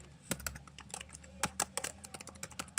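Quick keystrokes on a computer keyboard as a search is typed, a close, soft, irregular patter of clicks in short bursts with no talking.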